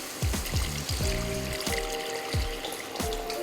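Water pours steadily into a soup pot in a kitchen while drumstick soup is made, a continuous stream with bright splashing and repeated low glugging pulses throughout.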